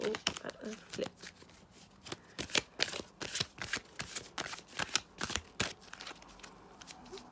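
Rapid, crisp riffling bursts of a deck of cards being shuffled, repeated in quick irregular flurries close to the microphone.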